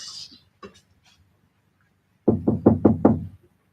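Five firm knocks on a door come in quick succession, loud and close, after a few faint scattered sounds and a stretch of near silence.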